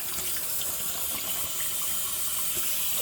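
Cold well water pours steadily from an indoor tap in Southeast Alabama, a continuous close hiss and splash with no talk over it.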